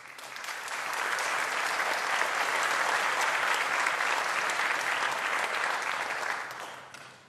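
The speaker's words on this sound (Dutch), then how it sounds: "Graag uw applaus voor Capella Pratensis." An audience at a Leuven meeting of university professors applauds the Capella Pratensis choir. The clapping is full and sustained, swelling over the first second, holding for about six seconds, then tapering off.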